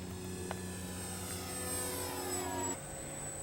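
FMS J3 Piper Cub 1400mm radio-controlled model plane taking off, its electric motor giving a steady whining drone that rises slightly in pitch and then cuts abruptly, heard close with no talking.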